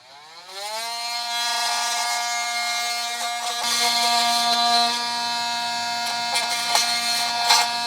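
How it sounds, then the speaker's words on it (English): Oscillating multi-tool cutting a part away during trailer hitch installation on a 2017 GMC Acadia: a steady, loud, close buzzing whine with strong even harmonics, holding for several seconds and roughening as the blade bites in. "we're going to use a multi-tool to get it off"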